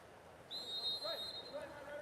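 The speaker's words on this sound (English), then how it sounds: "Whistle" A referee's shrill whistle at an under-18 water polo match between USCC/Greenwich and Australia, one long sustained blast over faint pool-hall murmur and a commentator's voice.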